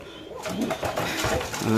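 Pigeons coo in low, throaty bursts nearby at a pigeon farm, with some background noise and movement around them.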